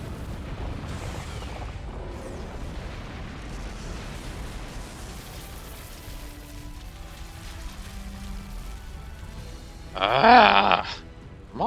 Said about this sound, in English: Luray Lemur firing anti-aircraft lasers.